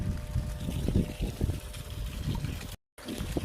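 Water gushes and splashes from a borewell pump pipe in a steady, close, uneven flow, with a brief dropout of sound near the end.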